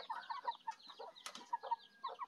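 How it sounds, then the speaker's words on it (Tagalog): Several chickens cluck softly and irregularly close by, with a brief flutter of wings partway through. "May alaga din kaming manok."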